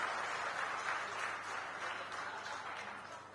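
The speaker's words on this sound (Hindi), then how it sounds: "जोरदार तालियों से आप रविंद्र चौबे जी का अभिनंदन करें" Faint, distant applause from an audience at a political discussion event, a soft continuous patter of clapping that fades slightly toward the end.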